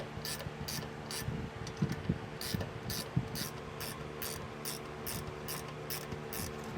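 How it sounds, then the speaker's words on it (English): A 13mm ratcheting wrench tightens bolts during installation of a DeeMaxx disc brake kit. It gives rapid, steady ratchet clicking in repeated short strokes, close and clear over a low background hum. "I'm going to take a 13mm wrench, and it's good to have a ratcheting wrench, make this go a lot faster."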